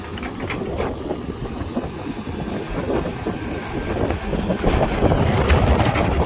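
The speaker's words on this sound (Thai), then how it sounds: "โอ้ลมแห้งครับ" Dry wind gusts across an open outdoor site, roaring steadily into the microphone with low buffeting rumble that builds louder toward the end.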